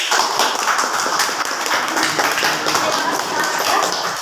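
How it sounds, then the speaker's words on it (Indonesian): Quiet, irregular splashes and knocks of paddles working water beside a small fishing boat, with soft wooden creaks between strokes. "tepuk tangan untuk kalian semua"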